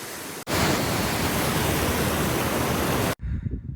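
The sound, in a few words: waterfall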